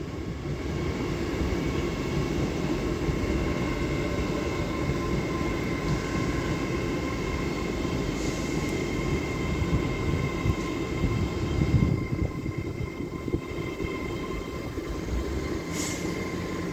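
Unit 800 103 on the East Coast Main Line at Doncaster station gives a steady, loud rumble with wheel and engine hum throughout, faint squeals rising now and then, and no talk.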